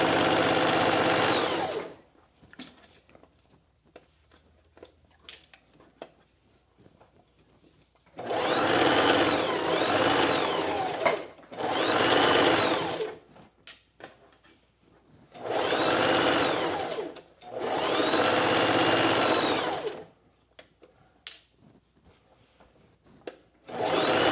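Sewing machine stitching a pocket on a pair of pants, running in four loud bursts of steady whirring, each several seconds long, separated by pauses with faint handling noises.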